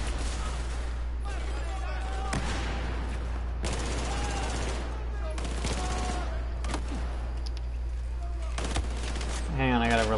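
Bursts of gunfire in Battlefield 4: several sharp shots and short volleys crack out irregularly over a constant low hum, with chirpy game effects between them and a fluttering sound at the end.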